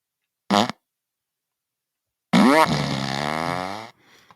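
A fart machine sound effect blurts out a short squelchy burst, then after a pause lets rip a long, loud, wavering raspberry lasting over a second, trailing off into a faint sputter.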